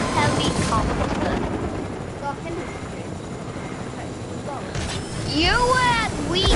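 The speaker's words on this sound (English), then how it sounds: "How'd you get a helicopter?" A helicopter in the Fortnite video game gives off a steady rotor drone through the whole stretch. It swells louder near the end, and people talk over it.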